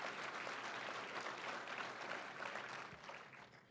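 A crowd applauds Director Zellers at a Missouri Black History Month event, a dense, even roar of many hands clapping that holds steady, then thins slightly toward the end, with no speech over it.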